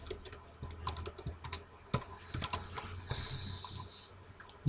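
Keys clatter on a computer keyboard in quick, irregular bursts of close, crisp taps, with short pauses between runs and no voices.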